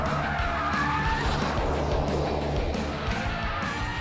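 A Jaguar XJR with aluminium bodywork is pushed hard around a track for a quick lap, the engine roaring steadily as tyres squeal and scrub through a corner, loud and continuous.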